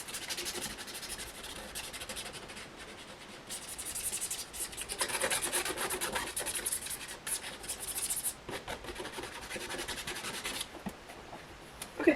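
Coarse 80-grit sandpaper rubs back and forth over a surface in a steady, close, gritty scratching that keeps going throughout, getting louder and rougher in the middle.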